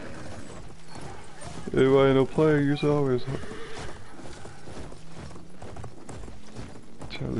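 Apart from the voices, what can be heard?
horse hooves in video game Battlefield 1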